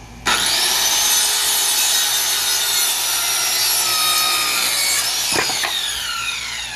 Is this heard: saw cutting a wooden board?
yes